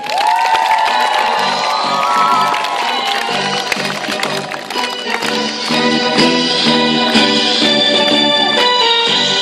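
Children at a summer camp opening ceremony for a mini Olympic games cheer, shout and applaud loudly as the Olympic flag is carried onto an improvised stadium, with whoops and music blending into the continuous crowd roar.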